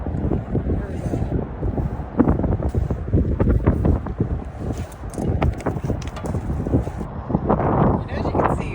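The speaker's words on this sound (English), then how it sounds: "It is a cold, windy day" Gusts of wind buffet the microphone without pause on a cold, windy day at a riverside magnet-fishing spot, a loud, rumbling, low roar that swells and dips throughout with brief knocks mixed in.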